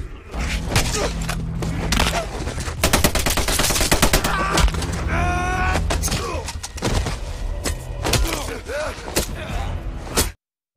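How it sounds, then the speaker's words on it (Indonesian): Rapid bursts of World War II gunfire crack out repeatedly, dense volleys of shots with thuds between them, loud and close throughout, with a faint voice mixed in. "Suara tembakan juga terdengar oleh komandan pasukan Jerman yang ada di depan."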